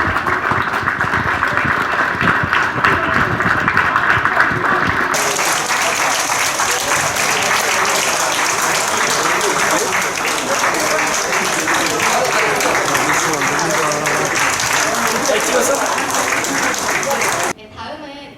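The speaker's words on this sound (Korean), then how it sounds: "큰 박수로 환영해 주시기 바랍니다." An audience gives loud, sustained applause welcoming a politician entering a youth forum on fair growth, dense continuous clapping with background music lasting well over fifteen seconds before cutting off abruptly.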